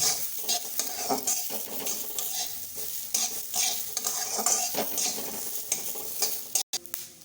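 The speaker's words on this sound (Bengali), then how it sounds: "দিয়ে দেবো আদা, কাঁচা লঙ্কা, একটু ভেজে নেব।" Ginger and green chili fry in oil in a pan, a steady close sizzle broken by rhythmic stirring scrapes and a brief gap near the end, no talking.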